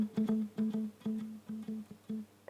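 Guitar notes played in a rhythmic echo-like pattern, each plucked note followed by softer repeats that mimic a tempo-synchronized delay, fairly quiet and alone.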